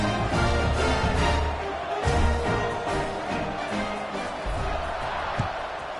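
A football stadium crowd cheers and rumbles as the kickoff unit lines up, with a loud, broad roar that swells and dips and scattered bangs.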